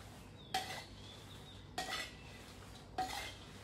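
Chilies dry-roasting in a pan for pounded fermented fish dip, stirred with a metal utensil in three separate bursts of scraping and clinking, moderately close against a quiet background.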